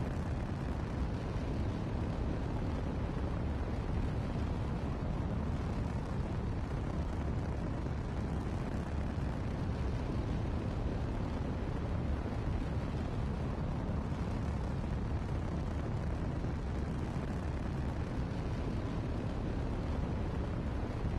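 The S.S.S.S X1 rocket climbing after launch, a dense, continuous engine roar heard from onboard, steady and loud with no letup for over twenty seconds.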